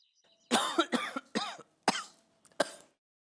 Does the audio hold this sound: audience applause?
no